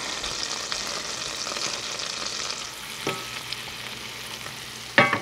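Onion sautéing in melted butter for a chicken pot pie, a steady close sizzle and crackle with occasional utensil scrapes and a sharper clatter near the end.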